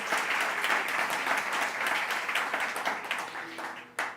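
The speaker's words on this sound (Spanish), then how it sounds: "Denle un aplauso al Señor, por favor." Church congregation applauding at a service, a sustained burst of many hands clapping at moderate loudness that tapers off near the end.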